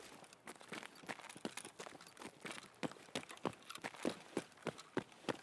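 Two players' footsteps in Escape from Tarkov's Interchange map, quick, irregular steps crunching and thudding just below, faint to moderate and continuing throughout with no talk.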